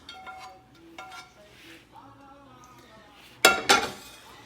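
Spoonfuls of butter-cooked onions and a little sauce land on pierogi in a reused pan, a soft scraping at first, then a loud clatter of spoon against pan near the end.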